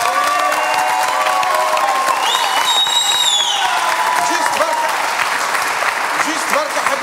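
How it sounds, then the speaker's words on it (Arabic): Studio audience applause on an Arabic comedy show, a steady, dense clapping that fills the room, with some cheering and voices mixed in. "تصفيق عليهم"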